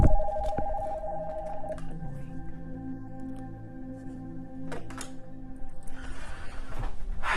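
A telephone rings with a steady repeating tone through the first couple of seconds, then other household noises and a brief burst of rustling follow, with no talking.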